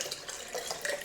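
Red raspberry leaf tea pouring into a glass, a quiet, close trickling stream with small gurgles and splashes lasting about a second, with no talking over it.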